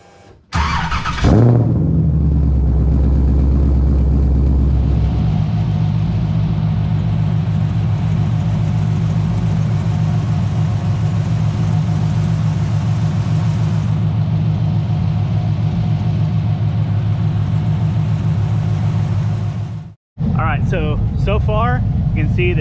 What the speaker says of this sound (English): then we're gonna turn the car on and hopefully everything will be good